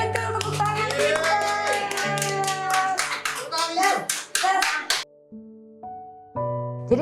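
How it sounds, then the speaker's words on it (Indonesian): Children and their teacher clap along at a foundation's learning session, with rhythmic hand claps mixed with sung and spoken voices for about five seconds before quieter tonal sounds and voices follow. "Yeay, betul, tepuk tangan kita."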